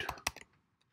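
Keys on a computer keyboard are tapped in a quick burst of three or four close, crisp clicks, then fall quiet apart from one faint click.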